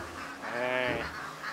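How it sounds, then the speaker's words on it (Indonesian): Ducks making noise in a pen, a loud, close nasal quacking call that rises and falls over about a second, alone with no talk. "Tumben itu bebek jam segini berisik."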